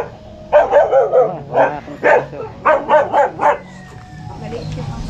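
A small dog barks in a rapid run of about ten sharp yaps, close and loud, in a forest setting, with faint background hum after the barking stops.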